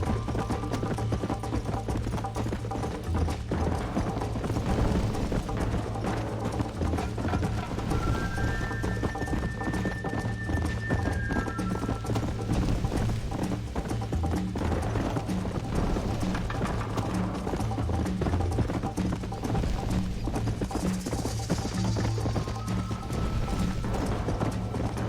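A horse gallops steadily through the Red Dead Redemption Xbox 360 game, its rapid clip-clop hoofbeats continuous and close, with a whinny and background music.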